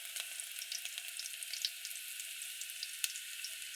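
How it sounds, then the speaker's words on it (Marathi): Mustard seeds and garlic sizzle in hot oil for a tempering, a quiet continuous fizz sprinkled with sharp little pops and crackles. "तुम्ही बघू शकता मोहरी टाकली. कसा तडतड आवाज आला पाहिजे त्याला."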